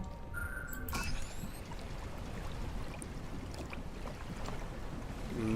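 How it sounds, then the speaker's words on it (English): A boat arrives from the ocean in the puzzle video game The Witness, a soft watery swash and wind-like hiss that holds steady, with a faint chime at the start. "There's a boat that comes up from the ocean."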